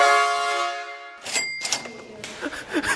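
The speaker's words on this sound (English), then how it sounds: "train horn" A train horn fitted to a Lamborghini Huracan Evo sounds one loud, sustained multi-tone blast lasting about a second, then cuts off into clattering knocks and clicks up close.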